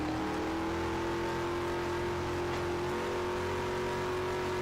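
Race cars lapping a racetrack in a NAPA Auto Parts Series race at Quiktrip 96, a steady, fairly faint engine drone with a constant pitch, heard without talk.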